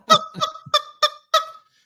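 A rubber chicken perched on the chafe collector of a coffee roaster squeaks out five separate honking squawks in a loose rhythm, loud and close with no talking over them.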